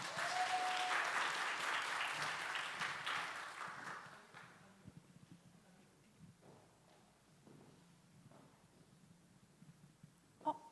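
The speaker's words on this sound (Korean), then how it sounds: "다시 한번 격려 박수 부탁드립니다" A church congregation applauding at an afternoon service, a loud burst of clapping for about four seconds that fades into quiet room noise with scattered faint sounds.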